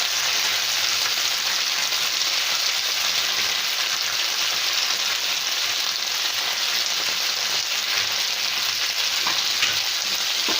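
Love bite snacks deep-frying in hot oil, a steady, loud, dense sizzle that runs unbroken throughout with no talk.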